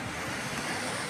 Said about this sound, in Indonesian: Ombaknya kecil ini guys,